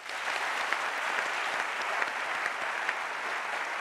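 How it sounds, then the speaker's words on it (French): An audience at a comedy parliament sketch breaks into applause: a soft, even wash of many hands clapping, steady and continuous from start to finish with no talk over it. "Ça s'applaudit, ça."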